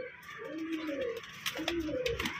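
Pigeons perched in a row coo in soft, low, repeated phrases close by, with faint background noise and a few sharp clicks.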